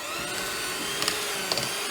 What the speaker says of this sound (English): Then you're gonna go in again with your hand mixer.